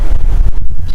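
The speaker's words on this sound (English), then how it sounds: "Ooh, it's getting windy." Gusty wind buffeting an outdoor microphone, a loud low rumble with uneven bursts and flutter across a brief moment, no speech.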